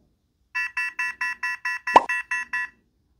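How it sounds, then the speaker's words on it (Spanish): A phone's anti-theft alarm beeps shrilly in a fast repeating pattern of about ten pulses, loud and close, with a brief thump midway. "Automáticamente empieza a sonar esa alarma"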